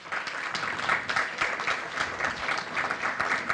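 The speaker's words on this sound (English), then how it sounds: "Please give them a round of applause for me." An audience at a seismic risk forum applauds panelists, a steady patter of many hands clapping at moderate distance, fairly soft and continuous without talk.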